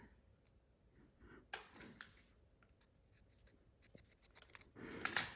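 Fabric for a simple baby turban being cut by hand with scissors, quiet at first, then a few short crisp snips and scratchy bursts growing denser and louder toward the end.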